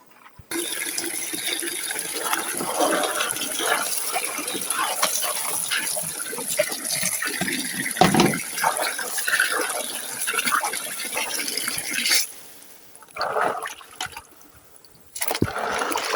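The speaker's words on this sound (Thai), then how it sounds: "เดี๋ยวเราจะเอาไปล้างก่อนนะ" Water gushes and splashes steadily over freshly dug mountain crabs being rinsed, a close continuous flow that breaks off briefly near the end before resuming.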